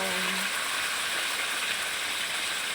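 Garlic sizzles steadily in hot oil before string beans go in, a dense even hiss that stays constant and close throughout, with a brief low hum at the very start.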